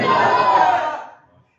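A crowd at an Eid Milad-un-Nabi religious gathering chants slogans in unison, a loud, massed burst of voices that holds steady for about a second, then fades away to silence.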